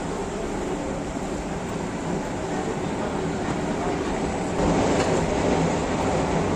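A train sits at a CPTM station boarding platform with a steady, loud rumbling hum and broadband noise that swells slightly toward the end, with no clear voices.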